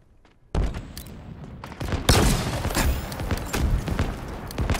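Gunfire in Halo Infinite's Fiesta multiplayer mode: dense, loud volleys of rapid shots and booming impacts that burst in after a quiet opening and keep going without a break.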